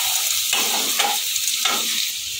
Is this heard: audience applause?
no